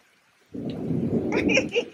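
Rain with thunder: a heavy, low rumbling roar starts abruptly after half a second and holds steady, with faint voices rising briefly near the end.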